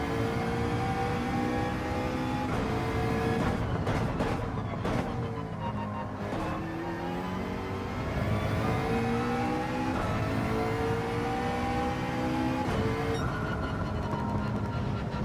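A McLaren race car engine in Gran Turismo 7 lapping Mount Panorama drones steadily, its pitch climbing and dropping through repeated gear shifts and deceleration, loud and continuous with no talking.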